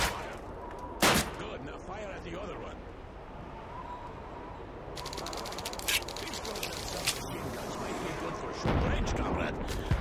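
Rifle shots ring out on a shooting range in Call of Duty 2, aimed at teddy bear targets: a few sharp, loud cracks spaced apart over a steady background rumble, with a voice talking through parts of it.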